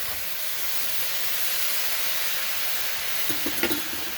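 Garlic fried rice with soy sauce hisses loudly and steadily on a hibachi grill, a dense close sizzle with a few brief scrapes near the end and no voices.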